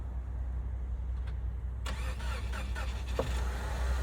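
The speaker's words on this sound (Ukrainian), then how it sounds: "Все, машина завелась, хоч і мороз у нас сильний, але завелася з першого разу" A 2024 Nissan Rogue starts by remote start on a frosty day, and the engine catches at once and settles into a steady idle under a constant low hum, with no talking.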